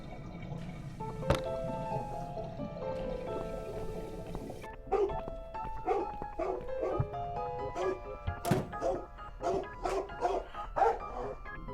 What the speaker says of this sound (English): Your dog is making horrible noise.